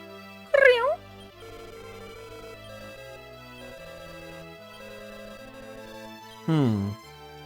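A cat-like baby monster, a saber kitty from a Dragon Quest Monsters game, gives two short, loud rising-and-falling meowing cries, one near the start and one near the end, with steady tonal game music playing underneath.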